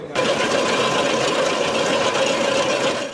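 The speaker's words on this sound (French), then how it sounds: "Ce moulin de Boubacar Zongo, qui fonctionne au solaire, est destiné à répondre aux besoins des zones reculées" A solar-powered grain mill for remote areas runs with a loud, steady mechanical whir and hum that holds unbroken from start to finish.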